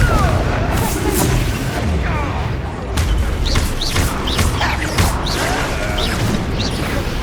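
Blasts from the Confringo fire spell in Hogwarts Legacy land during a loud, busy fight. Several sharp booming impacts hit over a constant rumble, with crackling debris and whooshing effects spread across the whole stretch.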